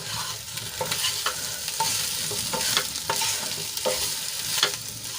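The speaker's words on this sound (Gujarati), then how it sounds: "ફરીથી એકવાર આપણે સરસ રીતે મિક્સ કરી લઈશું" Leftover khichdi muthiya mixture with sugar and coriander being mixed in a pan, heard as steady, close scraping and stirring strokes over a soft continuous sizzle, with no voices.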